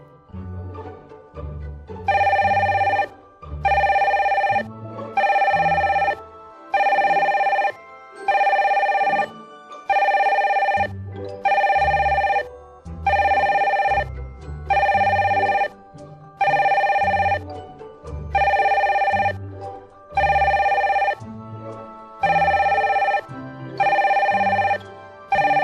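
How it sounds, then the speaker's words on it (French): A red telephone rings loudly and close in a Sims 2 game, with repeated regular bursts of electronic bell tone separated by short pauses, continuing for many cycles. "Le téléphone rouge vous réveille"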